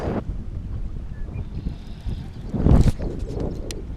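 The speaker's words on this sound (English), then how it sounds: "the wind's picking up" Wind gusting across open water on a fishing outing, a steady rushing roar with buffeting against the microphone and a louder swell near the end, no talking.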